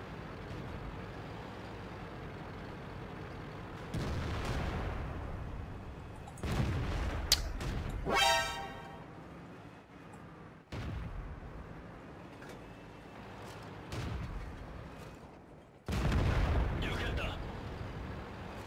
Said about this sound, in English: Either the artillery is in the canyon, or camping behind here.